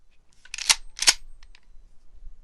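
A pump-action shotgun racked once: two sharp, loud metallic clacks about 0.4 seconds apart, close and dry, followed by quiet with a couple of faint small clicks.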